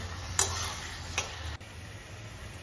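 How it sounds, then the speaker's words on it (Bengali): Fried onions being stirred with crushed garlic and chopped tomato for a fish dish: quiet, low pan noise broken by two or three sharp spatula scrapes and taps, with no voices. "রসুন আর টমেটো দিয়ে ভালো করে আমি নেড়েচেড়ে নিলাম"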